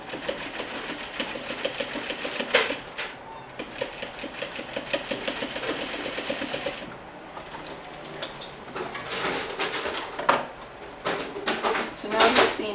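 Sewing machine stitching a seam on a Parsons chair slip cover, running in uneven bursts with brief stops and fabric handling between stretches, close and moderately loud, with some talk mixed in.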